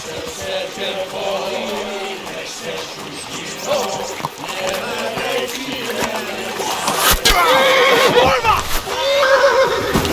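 A horse whinnies amid busy, layered game sounds and music, with voices talking over the action; the neigh rises loudly near the end.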